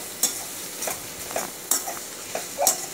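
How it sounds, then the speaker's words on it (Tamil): Sliced onions with salt sauté in a pan for a Tamil fish curry (meen kuzhambu), with a spoon scraping and stirring in quick, irregular strokes over a close, steady sizzle. "இந்த வெங்காயம் கொஞ்சம் நல்லா வதங்கணும்"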